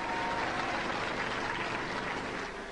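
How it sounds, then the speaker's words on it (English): A Robot Wars studio audience applauds a team, a steady, dense roar of clapping at moderate distance with no speech. "Give them a round of applause."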